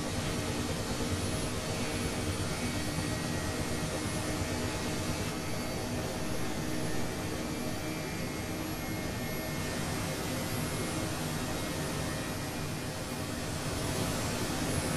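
A Mi-8 helicopter's turbine engines spool up in a flight simulator, giving a steady broad whooshing roar that holds loud and constant throughout, with no voices.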